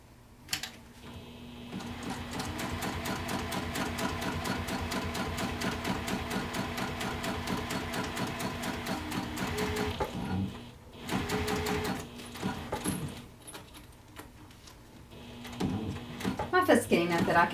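A sewing machine top stitching a bag with a lengthened stitch runs in a steady, close mechanical whir for about ten seconds, pauses briefly, then resumes in shorter bursts.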